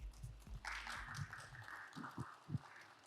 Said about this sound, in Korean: 그럼 박수로 김준수 연구원님을 모시겠습니다.